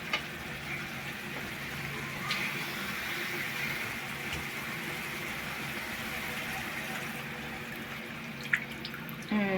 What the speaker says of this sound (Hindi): और थोड़ा पानी डालो।